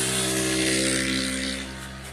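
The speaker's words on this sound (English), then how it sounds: "And that's a motorcycle" A motorcycle passes with a steady droning engine hum that holds loud and close, then fades as it moves away near the end.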